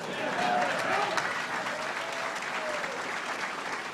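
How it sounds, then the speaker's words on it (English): Applause from a crowd at a Colorado athletics press conference, moderate and steady throughout, with a faint voice and some cheering mixed in. "You gotta clap for that, darn it."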